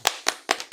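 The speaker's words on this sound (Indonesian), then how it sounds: "Tepuk tangan buat Pak Rega" Three or four quick, sharp hand claps sound close by in a brief burst of applause for a guest.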